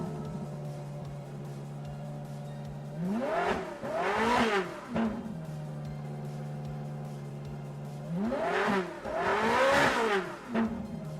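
Suzuki Group 3 race engine in Gran Turismo 7, swapped into a road car, holds a steady idle drone, then climbs through two sharp revving bursts that rise and fall, loud and close, with no talking.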